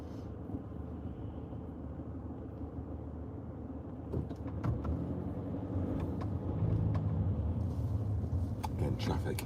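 Steady engine rumble and road noise from inside a car crawling through early-morning traffic, with faint muffled voices and a few clicks over the constant low drone.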